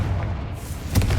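A Confringo explosion spell in a Hogwarts video game lands as one deep, muffled boom near the end, over a low rumbling background.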